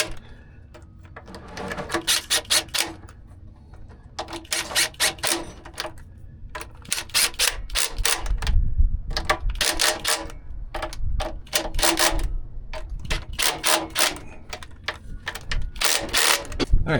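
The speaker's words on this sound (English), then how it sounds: "So here's the adapter, the drive adapter for the fuel pump. Got that in place. I'm just going to tighten it down." A ratchet wrench clicks in rapid repeated bursts, tightening the bolts on a fuel pump drive adapter on a Cat C18 engine from a 657E scraper. Nearby mechanical clunks accompany the ratcheting.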